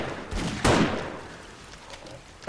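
Loud gunshots from revolvers or magnums in the zombie survival game 7 Days to Die: a sharp blast, a second harder crack with a long decaying echo, then a further shot cut off at the end.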